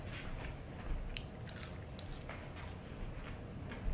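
French fries being eaten up close, with soft, quiet crunching and chewing running steadily for a few seconds and no talk.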